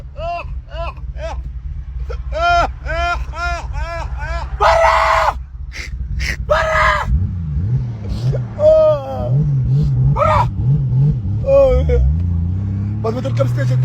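A car revving its engine: several sharp high-pitched bursts, followed by a low engine tone that rises and swells near the end, with people talking and shouting throughout.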